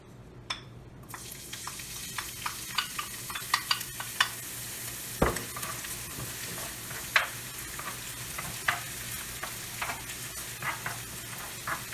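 Chives sizzle steadily and close by in olive oil, with light stirring taps and scrapes popping up irregularly through the frying hiss.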